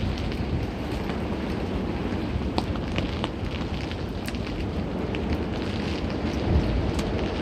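Winter storm at night in New York City, with heavy rain and high winds roaring as a steady, dense wash of noise, with a few brief sharper gusts or spatters and no voices.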